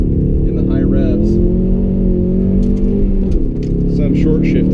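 A Ford Mustang EcoBoost engine drones loudly from inside the car as it accelerates around a figure-eight track, its pitch climbing, then dipping briefly with a shift before pulling again, with talk over it.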